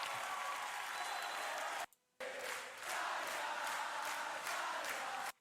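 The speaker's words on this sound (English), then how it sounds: "it seems it's just a crowd chant after that" A large concert crowd at the end of a metal song, roaring and chanting in loud sustained waves, with a brief silent break partway, then rhythmic rising bursts of cheering continuing to the end.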